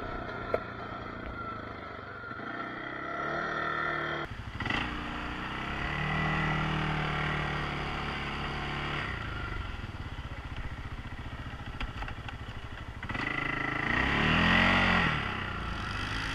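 Four-wheelers pass outdoors with engines droning and revving, their sound rising and fading over about sixteen seconds, and one grows loud and near toward the end.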